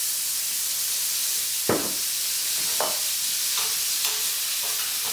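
Garlic sizzling in olive oil in a pan while rock shrimp are being prepared, a constant bright hiss broken by several sharp scraping stirs spaced about a second apart.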